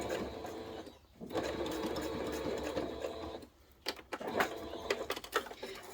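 A sewing machine stitching and backstitching fabric for a notions tray, with a steady close whir that pauses briefly, runs again, then stops before a few clicks and handling noises.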